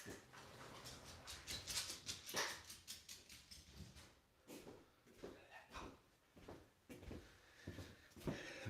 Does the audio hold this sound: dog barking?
yes